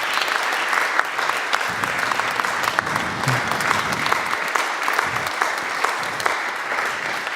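An audience at a live Occitan talk show in Tarbes applauds a guest named Samira, sustained close clapping from a full room that continues evenly throughout.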